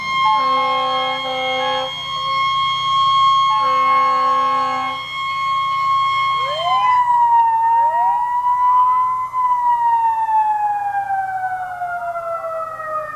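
Fire engine siren sounding during a Labor Day parade in Mooers, loud and close, first in steady wailing tones, then sweeping up and down through a long rising and falling wail, with no talk over it.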